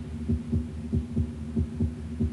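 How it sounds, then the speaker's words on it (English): A six-day-old chick embryo's heartbeat throbs in a steady, regular rhythm of soft low thumps, about two beats per second, over a constant low hum. "the first heartbeats of a chick embryo on the sixth day after fertilization"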